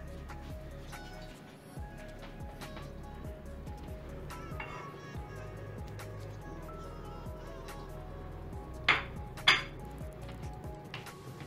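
Plates and cutlery clink softly while fried eggs with sofrito and courgette are plated in a home kitchen, with a steady low background hum and two sharper clinks near the end.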